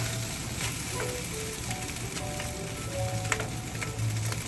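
Rice frying in a pan, a steady broadband sizzle with scraping utensil clicks and a low hum underneath, continuous and fairly close, with no talking.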